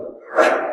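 A single sneeze, building from a short breathy intake to a sharp burst, close and fairly loud, with no one talking over it.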